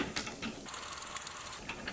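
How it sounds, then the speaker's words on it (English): Bolt being backed out of a Cummins 855 Big Cam engine block during a sunk-liner repair, giving a close, quiet run of rapid ratcheting clicks with no talking. "Anyway, going to pull the bolt back out."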